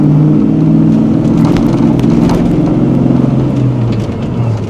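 Supercharged 1994 Ford Mustang SVT Cobra with a Powerdyne supercharger and five-speed, idling with a steady, loud, close low rumble and faint whine throughout.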